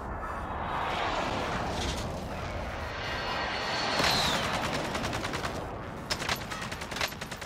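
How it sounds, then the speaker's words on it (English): An airstrike in a shooter video game: a loud, dense rumble of explosions and gunfire, an aircraft sweeping overhead, then sharp bursts of shots near the end. "Airstrike"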